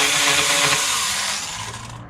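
A small Stihl GTA 26 battery pruning saw cuts into wood with a loud, close, steady buzzing chain whine that gradually winds down and fades near the end.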